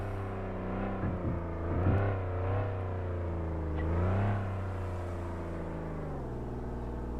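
A police car engine in the video game Flashing Lights, a steady droning motor that rises and falls in pitch as the car accelerates and shifts, audible throughout without speech.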